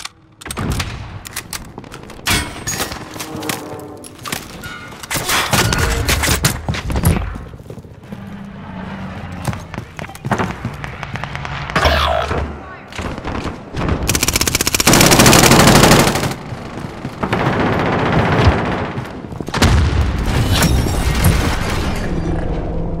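Heavy gunfire in the video game Warzone, with rapid machine-gun bursts and single shots cracking loudly in clusters, plus a few booms, dense and close throughout with a sustained barrage near the middle.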